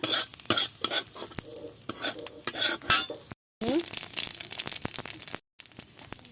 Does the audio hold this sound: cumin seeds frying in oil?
yes